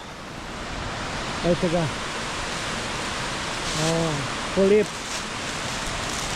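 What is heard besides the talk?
waterfall on the Mrzli potok stream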